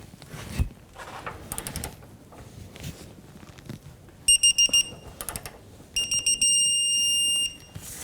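A digital torque wrench set to 55 degrees, used while fitting an upper rear control arm on a 2007-2014 Cadillac Escalade, gives several short electronic beeps and then one long beep amid clanks from the work.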